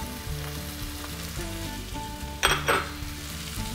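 Green and red bell peppers fry in a pan with a continuous close sizzle, broken near the end by a brief louder spitting burst as the pieces are stirred.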